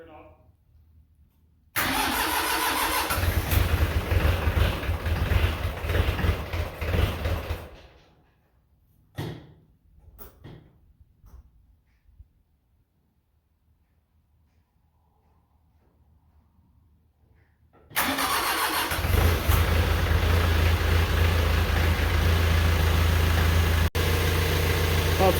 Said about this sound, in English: I'm going to use the glow plugs to fire it up.